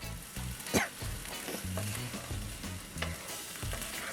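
Trini pepper shrimp sizzle and fry in a pan with a steady hiss, broken by scraping stir strokes and a few louder clatters. The sound is close and fairly quiet, with no talking.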